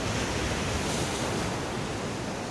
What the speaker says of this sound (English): where the waves crash